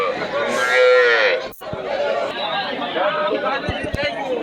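Dairy cattle at the Deohata cattle market give a loud, drawn-out moo near the start, with steady market chatter and crowd voices continuing throughout.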